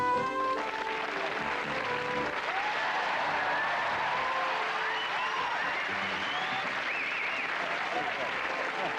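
Studio audience clapping steadily and loudly throughout, a dense continuous applause with faint talk beneath.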